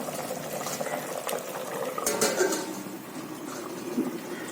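Chicken biryani liquid coming to a boil in a pot, a continuous bubbling and gurgling at close range with small pops and no talk.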